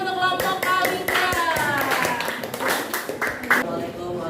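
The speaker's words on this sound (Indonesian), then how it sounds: "beri tepuk tangan untuk kelompok Palingga" Classroom clapping for a student group, with sharp irregular hand claps spread over a few seconds amid lively voices and chatter from the room.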